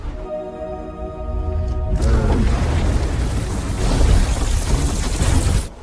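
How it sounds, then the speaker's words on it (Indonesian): A grenade-triggered bomb blast inside a monster in a film erupts suddenly after a brief mechanical hum, followed by a long, loud, roaring rumble of fire and debris that cuts off abruptly. "Andreas langsung menarik pin granatnya sehingga bom itu pun meledak di dalam tubuh Yoten"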